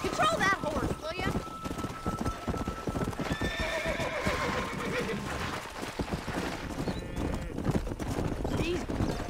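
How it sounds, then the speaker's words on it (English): Horses in Red Dead Redemption 2 gallop with steady rapid clip-clop hoofbeats and let out a loud whinny partway through, during a cattle-herding ride, with game music and voices underneath. "Control that horse, will you?"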